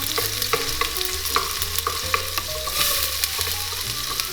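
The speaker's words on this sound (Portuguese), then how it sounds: "Eu dou uma refogada" Meat frying with onion and a whole garlic clove in a pan, a continuous close sizzle broken by regular light scrapes and clicks of stirring, with nobody talking.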